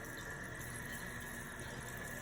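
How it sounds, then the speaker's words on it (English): A toilet tank refills through a newly replaced fill valve, giving a steady, quiet rush of running water with a faint high squeal throughout, fairly low in level and without talk. "It's still refilling, it just ain't making that much noise."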